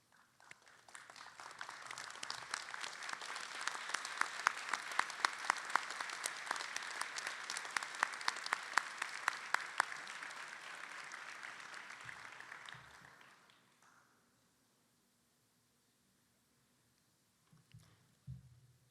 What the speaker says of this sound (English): please stand up and give them a round of applause